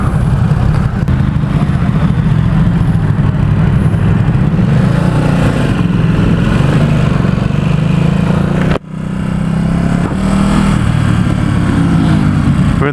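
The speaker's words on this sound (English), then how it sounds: "We're in the beautiful city of San Francisco, taking a ride on the Ducati-SUPERSPORT-S" A 2017 Ducati SuperSport S motorcycle ridden through the streets of San Francisco, its engine a loud, continuous rumbling drone with wind roar, briefly cutting out near the end before resuming.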